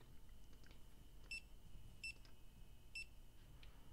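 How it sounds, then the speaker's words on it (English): Car horns in the video game Jalopy give three short, faint beeps spaced about a second apart, heard from a distance over a low background hum. "I can hear some beeping outside."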